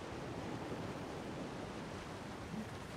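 Steady broadband rush of a waterfall in a peaceful player-built home in Elder Scrolls Online, a continuous even wash of falling water with no talk over it.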